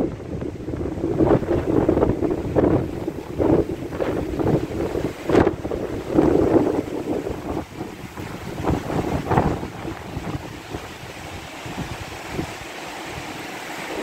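Strong, gusty mistral wind at about 110 km/h in Saint-Rémy-de-Provence roars across a microphone in loud buffeting bursts, with a rushing, blustery texture throughout and no voices.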